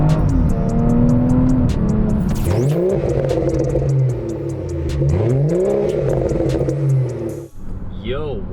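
A BMW F30 340i engine with improved throttle response revs up sharply several times, each rev rising and falling, loud and close, with a person talking over it.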